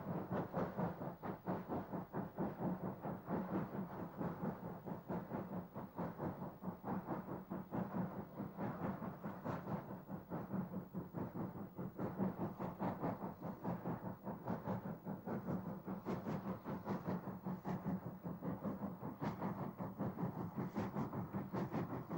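Preserved North Eastern Railway steam locomotive number 2392 on the North Yorkshire Moors Railway, a steady rhythmic chuffing and rolling rumble that runs evenly throughout, faint and distant.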